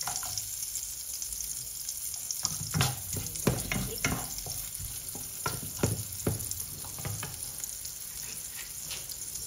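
Garlic frying in a pan for chicken wings adobo with lemon: a steady sizzle with repeated bursts of louder crackling and scraping as it is stirred, close and alone.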